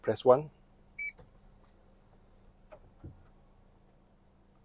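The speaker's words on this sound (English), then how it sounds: "You hear the beep, it means it's already set." A short electronic beep confirms a memory seat position being stored in a Toyota Alphard; a single brief tone sounds just after someone speaks, followed by faint clicks in a quiet car interior.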